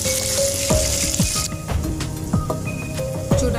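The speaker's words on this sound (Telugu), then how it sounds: "బాగా వేయించుకుందాం।" Curry leaves and onion fry in a pan with a steady hissing sizzle, punctuated by close spoon scrapes and stirring clinks.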